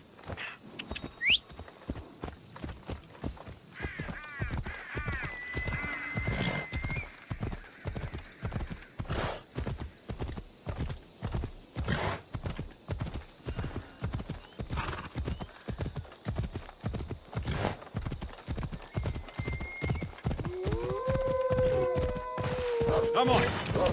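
Horse hooves from the video game Assassin's Creed Odyssey pound in a fast, steady clip-clop that runs the whole time, close and loud, with a horse whinny rising near the end.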